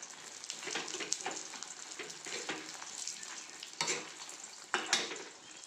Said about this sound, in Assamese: এতিয়া ভালদৰে মিক্স কৰিম।